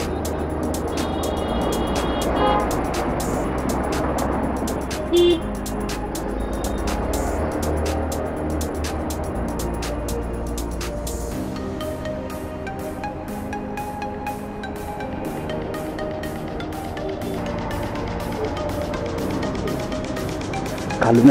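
Road traffic heard from a motorcycle riding through a congested stretch near Kondgaon lined with trucks: a continuous roar of engine and wind rumble with passing vehicles and some tonal honking later on.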